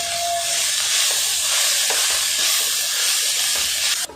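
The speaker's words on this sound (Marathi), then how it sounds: "छान 5 मिनिटं आता इथं ही मेथी मी परतून घेतलेली आहे" Chopped fenugreek leaves (methi) sautéing in a hot pan for a methi paratha stuffing, giving a steady, loud, broad hiss with faint scraping from stirring, continuous and alone.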